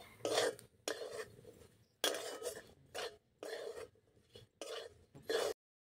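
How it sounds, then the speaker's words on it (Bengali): A spoon scrapes and stirs fried chicken pieces coated in wheat flour in a pan, in about six close, distinct bursts of rasping with short pauses between them and no talk. "আটাটা দিয়ে কিন্তু নাড়তে হবে, তাহলে একবারে শুকনো শুকনো হয়ে যাবে"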